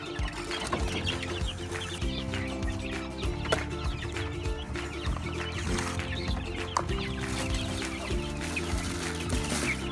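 Young chicks being fed in front of a house peep and cheep constantly, with overlapping clucking from nearby fowl in a busy, continuous flock chorus.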